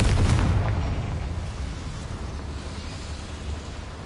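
The Confringo blasting spell goes off in Hogwarts Legacy as one heavy, booming explosion that starts loud and rumbles away over a few seconds, with no voices.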